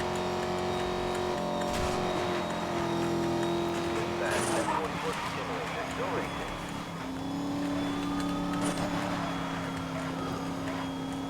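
A Mercedes-Benz SL 65 AMG racing in Need for Speed Most Wanted (2012) at close to 300 km/h, its engine holding a loud steady drone that dips on a gear change and climbs again, with someone talking over it.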